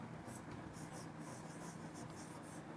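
Writing on a board during a physics lesson: a series of short, raspy strokes in bursts, close and fairly soft over a steady low background hum.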